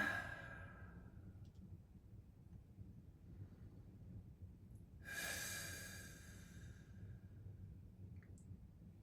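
During a gentle yoga class, a person takes slow audible breaths, with a soft exhale at the start and a longer breathy sigh midway, faint and close over quiet room noise with no talking.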